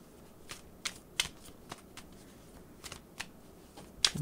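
Crisp riffling and soft slaps of tarot cards being shuffled, a handful of quick bursts spaced unevenly, close and fairly quiet with no talking.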